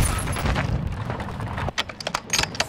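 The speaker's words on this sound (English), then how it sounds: "Stun grenade out!" A stun grenade going off in Call of Duty: Modern Warring 2 multiplayer, a loud dense burst of gunfire-like crackle and booming rumble that gives way to a string of sharp, separate bangs and clicks near the end.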